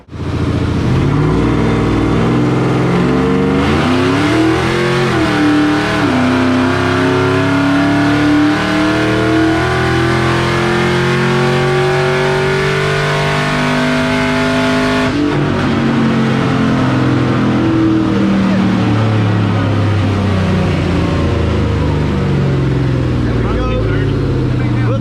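A Ford Lightning pickup truck on a dyno at a Ford car show, its engine revving loudly and steadily with pitch climbing and easing through gears, while people talk nearby over the roar.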